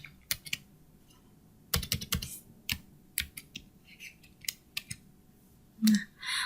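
Bursts of computer keyboard typing while writing JavaScript code, crisp close key clicks in uneven clusters with short pauses between, over a quiet background.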